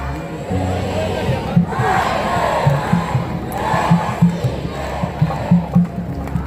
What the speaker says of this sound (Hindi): और एक बार सारे कहे मिलकर श्री राम।